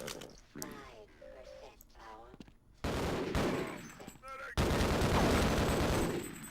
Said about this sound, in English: There's a demonstration of the machine gun there